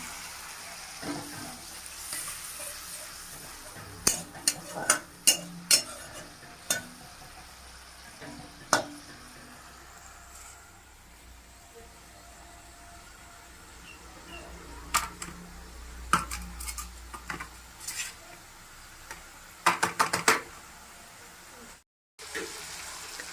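Scattered clacks and scrapes of a spoon stirring potatoes with spices in a hot pan, over a low sizzle, in intermittent bursts with quieter gaps between.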